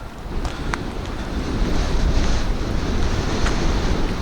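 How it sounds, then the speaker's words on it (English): Cold wind gusts steadily across a lake shore at Blue Marsh, Pennsylvania, a loud, continuous roar that builds slightly and holds, with water lapping faintly beneath it and no one speaking. "All right, that wind is cold,"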